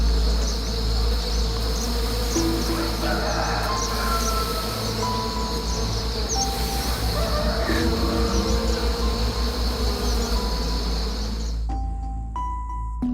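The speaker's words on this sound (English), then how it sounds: "In fact, these are wild bees. In this way, they drive away enemies from their nest." Wild bees at their nest produce a continuous, loud, close-up buzzing drone that fills the whole stretch steadily, then cuts off abruptly near the end, leaving a few faint tonal sounds.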